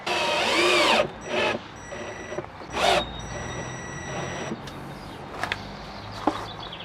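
A power drill whirs in several short bursts while aluminium trim strips are fixed around a timber cabinet in a Nissan Pathfinder 4x4 fit-out, the strongest burst first, with quieter rattles and pauses between, close by with no talk.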